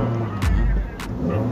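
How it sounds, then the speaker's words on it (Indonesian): A 2012 Toyota Rush with manual transmission is started after a faulty EV relay is replaced: two short starter cranks can be heard close by over a loud steady engine hum, with no talking. "Mari kita coba starter ya."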